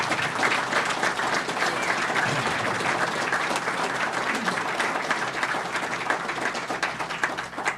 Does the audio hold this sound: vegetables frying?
no